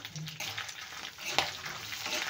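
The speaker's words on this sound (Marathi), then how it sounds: "आता घालूया कढीपत्ता, आता लाल मिरच्या" Curry leaves and red chillies hit hot oil in a pan with a loud, continuous close-up sizzle and crackle, with a sharp pop partway through.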